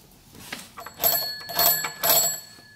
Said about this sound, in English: So this is a newer door, but they kept the old doorbell.